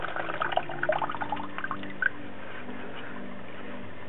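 Water drips and trickles off freshly rinsed mung bean sprouts as they drain, a scatter of small wet droplets and splashes early on that thins into a faint, quiet wash.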